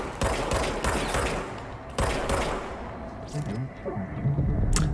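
Bursts of gunfire in the video game Control rattle in rapid fusillades, loud and close, with short pauses between volleys and some game ambience trailing off afterward.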